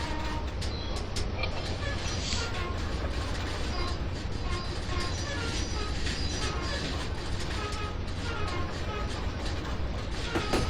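A Baldwin Centipede diesel locomotive running in Train Simulator 2016 on Horseshoe Curve, a steady loud engine rumble with rattling and clanking wheel noise, and someone talking over it at times.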